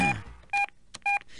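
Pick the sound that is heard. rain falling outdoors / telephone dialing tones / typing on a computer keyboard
telephone dialing tones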